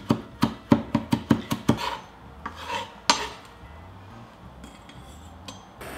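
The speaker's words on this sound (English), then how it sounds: "Finely mince 2 tablespoons of chive." A knife finely minces chives on a cutting board in a steady run of about eight crisp, close chops, followed by a few scattered scraping taps.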